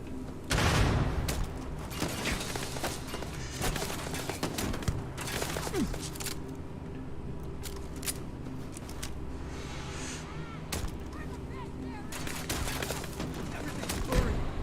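Gunfire and explosions in the sci-fi video game Starfield, a dense, continuous battle din of shots and booms with sharp louder blasts near the start and end, while voices talk over the combat.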